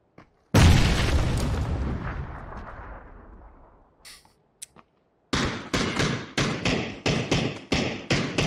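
A bomb explodes in a video game with one loud close boom that trails off over several seconds, followed by a few faint taps and then a quick series of sharp, repeated impact blasts.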